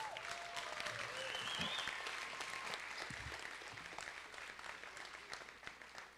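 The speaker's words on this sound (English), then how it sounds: "Is that worthy of some type of applause or praise?" A crowd applauds at a college spring nursing pinning ceremony, sustained clapping that fills the hall for six seconds, with a few cheers and whistles rising over the clapping.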